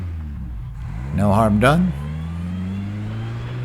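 A Royale RP 30 Super Formula Ford race car engine runs close by at a race track in France, a steady drone that climbs slowly in pitch, with a short spoken remark over it partway through.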